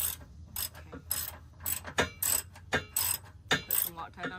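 A ratchet clicks in quick bursts while tightening hitch bolts on a Honda Passport, the sharp pawl ticks close and uneven, with short pauses between strokes.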